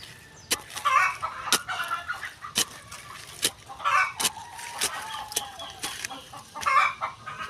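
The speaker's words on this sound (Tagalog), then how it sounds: "nag-iitlogan na naman po ang mga manok" Hens cluck near the spot where they lay eggs, giving repeated clear clucks and calls in loose bursts, with sharp knocks and clatters mixed in and no talking.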